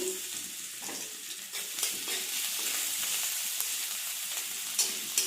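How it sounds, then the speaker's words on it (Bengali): Garlic and nigella seeds frying in a little oil in a kadai, a steady close sizzle with soft stirring scrapes and small crackles throughout, no voices. "তার জন্য দিচ্ছি তকড়াইতে সামান্য পরিমাণের তেল কালো জিরা থেতো করে রাখা রসুন"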